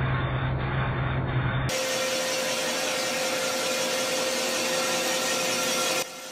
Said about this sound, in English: rough bore all of the second bank of cylinders